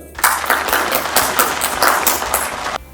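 An indoor church audience claps in welcome for a bishop, a short burst of dense applause rising quickly, holding steady for a few seconds and stopping abruptly.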